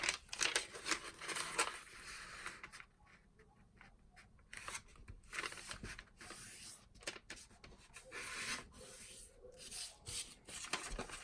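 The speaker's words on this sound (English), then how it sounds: "we'll create another fold to make an X" Square paper being creased and folded into an origami crane, close soft rubbing and crinkling strokes in irregular bursts, quiet and without talk.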